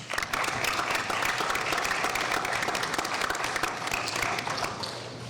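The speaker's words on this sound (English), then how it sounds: "give them a round of applause" Audience at a school board meeting applauds students and their families, a steady roomful of clapping with distinct hand claps throughout, tapering a little at the close.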